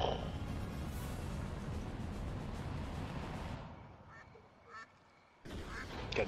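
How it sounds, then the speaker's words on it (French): Duck quacking in a LEGO video game, a burst of nasal quacks rising out of dense game noise, which fades before a second short burst of sound near the end. "Canard pas content."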